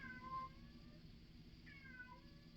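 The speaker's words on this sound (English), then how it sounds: "And you can hear the cat." An indoor cat meowing twice, two clear drawn-out meows about a second and a half apart, fairly faint over a low steady background hum.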